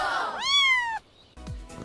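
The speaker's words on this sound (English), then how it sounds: "C is for cat." A cartoon cat gives a single rising-and-falling meow, bright and close, cut short and followed by a brief thump.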